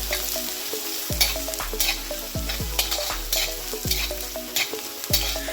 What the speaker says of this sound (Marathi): कांदा गुलाबी रंग येईपर्यंत छान तेलामध्ये परतून घ्यायचा आहे।